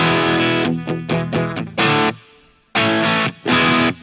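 An electric guitar runs through a Mooer GE300 with a tube screamer into a Klone patch, playing mildly gritty, overdriven chords: several quick strums, a pause, then a few sustained ringing chords.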